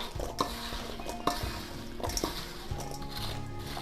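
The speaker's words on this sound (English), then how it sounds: "Now I'm going to toss these up real nice with my spurtle so that all the seasonings are evenly distributed." Apple pie filling being tossed with a wooden spurtle in a bowl, giving soft scraping stirs and a few sharp knocks against the bowl, close and fairly quiet with no talking.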